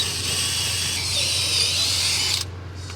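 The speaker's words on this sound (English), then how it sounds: "Let's drill some holes." An electric power drill bores holes into an EIFS stucco wall while a raceway sign is installed, giving a steady high-pitched whine that runs for a couple of seconds and then cuts off.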